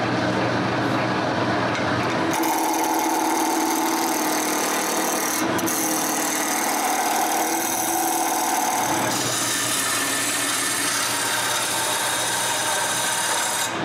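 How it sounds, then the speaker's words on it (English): Wood lathe turning a cylinder for a mortar and pestle, a loud steady motor whir with rough scraping and rasping of the gouge against spinning wood, the cutting noise shifting in tone as the tool moves along. "Then I put it on the lathe. The first thing to do is to turn a cylinder."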